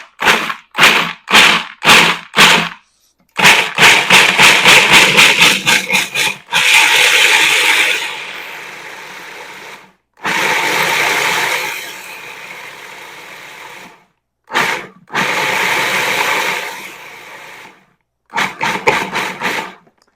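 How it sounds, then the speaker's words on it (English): A blender pulses almonds, powdered sugar and a pinch of salt into almond paste: several short loud bursts, then longer whirring runs separated by pauses, all close and loud with no talking. "And then I'm going to blend it. I'm going to pulse it and get it going."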